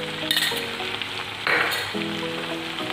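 Cumin powder and pounded ginger-garlic paste are stirred in a pan for Assamese chicken curry, giving a steady close sizzle with soft scraping and occasional light clinks of a spoon against metal, and no talk.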